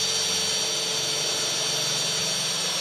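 Dagmara 21V cordless drill driver boring into steel, a continuous high whining motor drone with a grinding undertone, steady and close with no talk.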